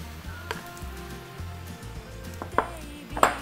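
Squid with cooking wine and starch tossed into a pan of stir-frying vegetables: soft sizzling under a low hum, with a few sharp clacks of a utensil against the pan near the end.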